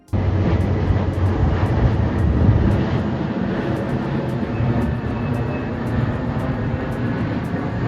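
Loud, continuous roar of a jet airplane passing low over a residential area beside Dulles International Airport in Ashburn, Virginia, a steady broadband rumble lasting throughout with no speech.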